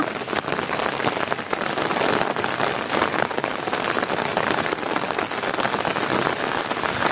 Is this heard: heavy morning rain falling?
yes